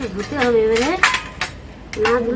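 Plates clink and knock together while being handled, giving a few sharp ceramic clatters under close, ongoing speech.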